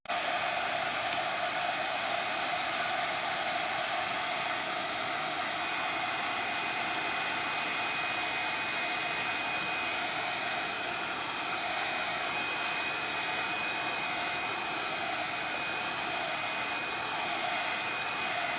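Heat tool blowing a steady, loud airy whoosh with a high whine while drying a decoupage wall panel and warming WoodUBend moldings, running continuously and unchanged for the whole stretch with no talking.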